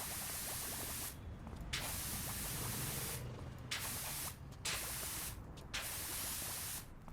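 Cleaner spraying from a pressure washer onto the metal of a fire truck in PowerWash Simulator, a loud, close hissing jet broken by four short pauses as the trigger is released and squeezed again.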